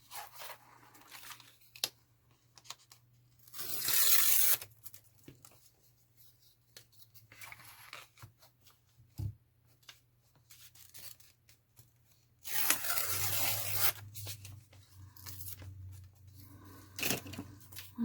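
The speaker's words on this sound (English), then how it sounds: "I'm going to use my ruler for tearing." Paper pages in a journal are torn along a ruler, giving two louder bursts of rough ripping with softer rubbing and handling between them, close up, with a steady low hum underneath and no talking.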